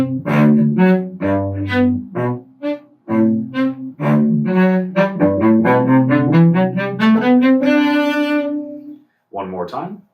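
A cello playing Bréval's Sonata in C from Suzuki Book 4 sounds out in a sequence of close, clear bowed notes that rise in a phrase and end on a held tone, with a voice speaking briefly around the playing.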